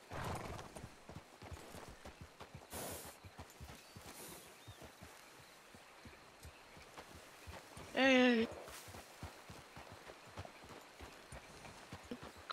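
Soft rhythmic clip-clop of a horse's hooves walking steadily at a distance in a video game set in Blackwater, joined midway by a brief horse whinny, under quiet background sounds.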